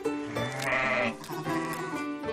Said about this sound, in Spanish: Ovejas.